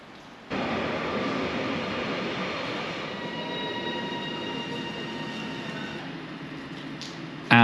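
An InterCity 225 set led by its driving van trailer rolls along a platform at Wakefield station, a steady loud rumble with faint whining, squealing tones, rising slightly near the end.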